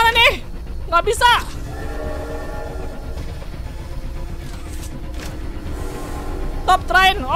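A video game train in Poppy Playtime Chapter 2 rumbles past steadily with a rhythmic clatter, while excited voices break in with short exclamations at the start and end.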